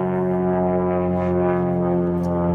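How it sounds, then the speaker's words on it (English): A low, steady drone from an airplane flying overhead outdoors, loud and unbroken throughout with a rich humming tone and no voices. "That's an actual airplane."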